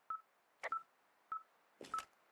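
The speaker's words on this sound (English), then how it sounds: "this thing is losing its mind, beeping like crazy" Electronic beeps sound in short bursts, a few single tones and a doubled pair, clear and close with quiet gaps between them.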